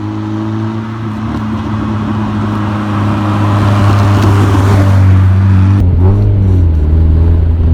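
A 1996 Mazda Miata driven on the road, its engine humming steadily and loud up close, rising in pitch as it accelerates, then dropping briefly at a gear change before pulling again.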